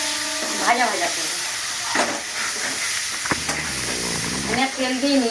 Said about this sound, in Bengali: আমি আর তেল দিইনি, এই তেলেই আমি আলুটা ভাজবো।